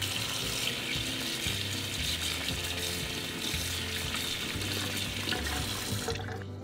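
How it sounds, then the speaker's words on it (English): Tap water runs steadily into a sink, rinsing fabric softener out of a paint brush, a close continuous hiss with faint scrubbing that stops just before the end. "I'm gonna rinse out all of this fabric softener."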